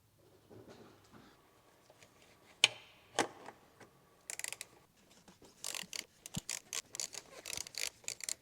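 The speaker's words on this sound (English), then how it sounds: "we're going to take it out using a 32 mil." Ratchet with a 32 mm socket loosening the oil filter housing on a BMW M340i, giving soft clicking ticks in short bursts, close and fairly quiet, with a few louder knocks partway through.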